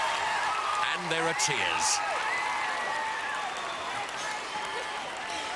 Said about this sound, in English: And the crowd are going berserk.